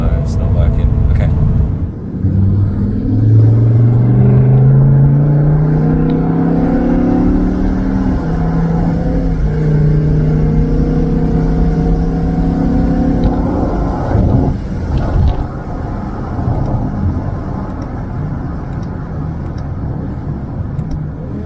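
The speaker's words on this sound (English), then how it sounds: "So as you can see, the car is driving absolutely perfectly." A BMW S85 V10 engine with a DCT gearbox, swapped into a car, runs steadily and loudly, its pitch rising and falling as it drives, with a constant low rumble throughout.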